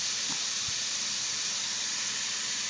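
Steak searing in a hot pan for peppered steak, a steady bright hiss that runs unbroken throughout, with a faint low knock or two near the start.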